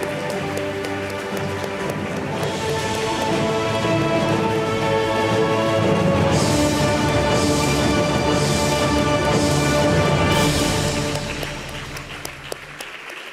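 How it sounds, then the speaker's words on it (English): An audience at a school event applauds to welcome the Netherlands ambassador, a loud, sustained wash of clapping over music that swells midway and then fades away near the end. "please rise to welcome Her Excellency Margriet Vonno, Ambassador of the Kingdom of the Netherlands to Singapore and Brunei, with a thunderous applause"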